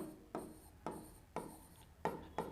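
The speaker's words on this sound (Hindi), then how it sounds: "तो यहाँ पर हम लिखेंगे स्पीड" A pen or marker scratches out a maths problem during a lesson on linear equations, in five short rhythmic strokes against a faint steady room hiss.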